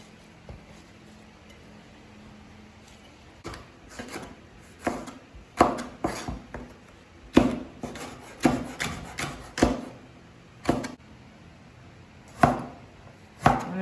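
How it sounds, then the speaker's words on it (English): A knife julienning bell peppers and carrots on a cutting board, quiet at first, then a run of sharp, uneven chopping taps, some in quick clusters, fairly close and alone. "I'm going to julienne my peppers and my carrots"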